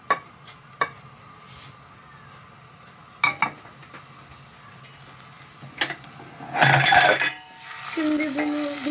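Onions being stirred in a frying pan for Turkish menemen, with a few sharp clinks and taps of a utensil against the pan, then a louder burst of sizzling and scraping toward the end.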